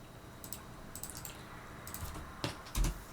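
Keys clatter on a computer keyboard as a terminal command is typed on a Linux machine, a few quick bursts of close, light clicks with short pauses between them and no talking.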